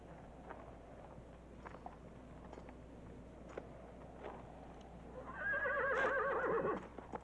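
A horse whinnies in one loud neigh near the end of the clip, with faint hoof clops and shuffling beforehand and no talk.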